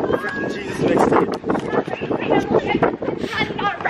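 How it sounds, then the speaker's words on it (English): Wind buffets a microphone outdoors near a boardwalk, a loud rumbling low roar that gusts and dips throughout while people talk over it. "It's so windy."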